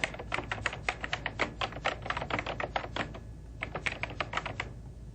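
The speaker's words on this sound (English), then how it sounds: "Next, I'll type in the new name." Keys on a computer keyboard are tapped to enter a file name in Word 2000, producing a quick, close series of clicks in uneven bursts with a brief pause partway through.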